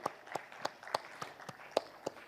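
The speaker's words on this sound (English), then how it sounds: "Can we have a big round of applause for Tyagi ji?" An audience at a food and nutrition summit panel claps, giving a round of applause for a panel member: a steady series of sharp, distinct claps, fairly faint and sparse, as from a small crowd.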